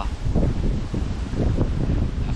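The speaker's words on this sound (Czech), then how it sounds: "Jak je vítr, to je veliký vítr." Strong winter wind at cold water during carp fishing roars and buffets the microphone with steady rustling and gusty rumble, loud and continuous, with no talking.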